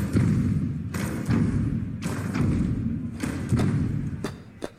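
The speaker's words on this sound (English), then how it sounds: "And what that means is a heel-toe sound." Heel-toe footsteps of a sauntering, swaggering character rather than a stomping one, built as a game sound effect: about five unhurried paired thuds land at roughly one-second intervals, close and fairly loud, with no voices.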